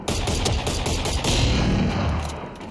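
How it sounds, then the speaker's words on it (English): Heavy gunfire from a high-powered sniper rifle in a tactical shooter video game, loud, dense, continuous blasts filling the whole stretch with no voices over them. "No, it's a high-powered sniper rifle."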